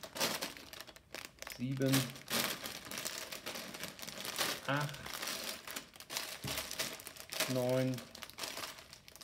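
Plastic parts bags from a Lego Technic 42098 Car Transporter set crinkle and rustle in short bursts while a man counts aloud in German over the handling.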